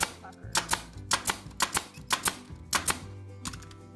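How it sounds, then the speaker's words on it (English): A staple gun fires sharp snapping shots one after another, about a dozen in a fairly steady rhythm, fixing upholstery fabric to a wooden ledge of a deconstructed chair, close and distinct. "I'm just gonna staple along this wood ledge here"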